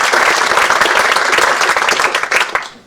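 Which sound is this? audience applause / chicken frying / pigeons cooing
audience applause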